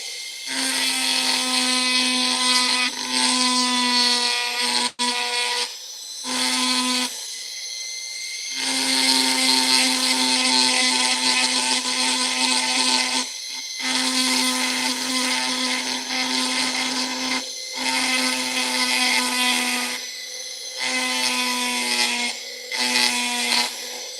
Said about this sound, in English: if I use the little cutoff blade for my Dremel, the little metal circle one with the teeth, it'll cut through it fairly well